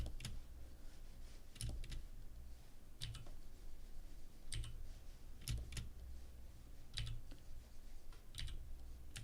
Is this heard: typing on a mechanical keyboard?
yes